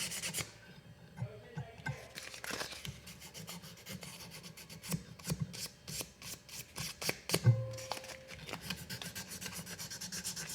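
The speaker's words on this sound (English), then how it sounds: "I'm just gonna hit with 1000 grit sandpaper. Just hit the frame just a little bit." A metal jaw harp frame is rubbed with 1000 grit sandpaper, producing close, dry rasping strokes in short repeated bursts, with a few light taps and handling knocks mixed in and no talking.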